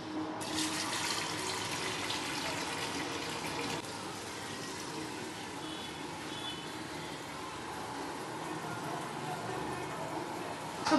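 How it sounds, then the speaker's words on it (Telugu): A tap runs into a pot being filled with water for boiling rice, a steady gushing splash that continues throughout, with faint sounds in the background. "అండ్ రైస్ ఉడకబెట్టడానికి ఈ గిన్నెలో వాటర్ తీసుకున్నా."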